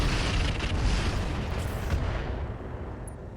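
Heavy weapons fire from an Orion mech at an Emperor mech in RogueTech, a deep rumbling series of booming blasts that starts loud and slowly fades into a low decaying roar.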